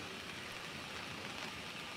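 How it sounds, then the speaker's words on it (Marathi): Heavy monsoon rain falls in the Konkan region, a faint, even hiss of downpour with no distinct drops or voices. "पावसाची मुसळधार सुरू आहे"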